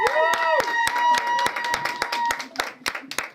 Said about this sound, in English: One more round of applause for Daniel.